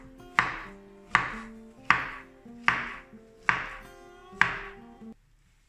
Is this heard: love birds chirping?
no